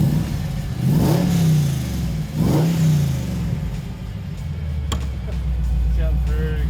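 A car fitted with a new air intake and fully upgraded revs its engine twice in quick succession, each a loud rising-and-falling roar, then settles into a low, steady idle rumble.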